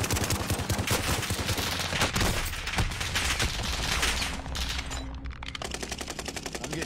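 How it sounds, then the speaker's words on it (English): Rapid bursts of automatic gunfire rattle continuously through a video game firefight, loud and dense, with rounds overlapping in quick succession and no voices over them. "I'm getting shot in the back."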